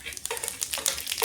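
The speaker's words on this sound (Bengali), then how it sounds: "আমি কড়াইতে তেল দিয়ে দিয়েছি," Cumin seeds hit hot oil in a kadai wok, giving a steady crackling sizzle with quick popping bursts, close and fairly loud, with no talking.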